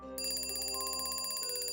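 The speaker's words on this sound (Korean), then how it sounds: "침묵 속에서 일의 휴대폰 알람이 갑자기 울리니" A mobile phone alarm suddenly rings, a loud electronic ringtone with rapid pulsing tones that starts abruptly and continues steadily without pause.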